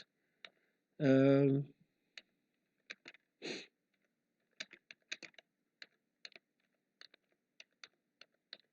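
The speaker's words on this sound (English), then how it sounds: "it's as easy as start typing something on the keyboard" Light computer keyboard taps click in scattered bursts through the second half while typing in Word 2007, after a couple of short voiced sounds near the start.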